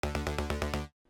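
A harsh, buzzy synth bass pulses in rapid repeated notes for under a second, then cuts off abruptly, leaving a faint tail.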